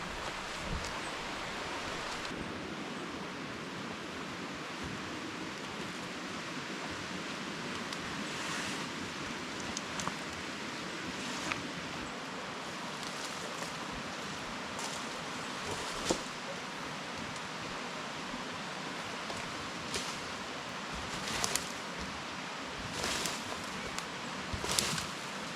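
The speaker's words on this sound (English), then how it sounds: "And it's not too noisy with the water flowing." Water flows steadily beside a jungle camp spot, a soft continuous rushing hiss with occasional faint splashes and rustles, moderately quiet and unbroken throughout.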